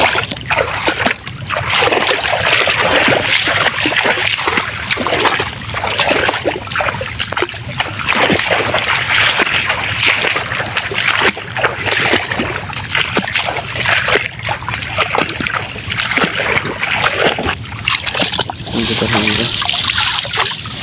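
Water splashes and trickles steadily as a bamboo fishing trap is hauled up from a village pond during net fishing for shrimp and goby, the dripping and sloshing continuing close by throughout with no talk.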